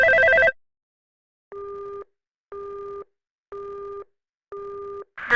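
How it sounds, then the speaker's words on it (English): A telephone busy signal in a radio play: four evenly spaced, loud electronic tone bursts of about half a second each, separated by silences, heard alone with no voice over them. "The line is busy."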